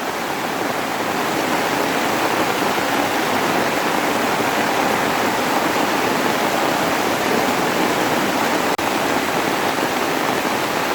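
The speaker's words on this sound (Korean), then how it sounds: "물길 아닌 곳에서도 물이 뭐 막 쏟아지네요 이렇게" Heavy monsoon rainwater pours down a collapsed hillside above a vegetable field, a loud, continuous broadband roar of rushing water with no letup.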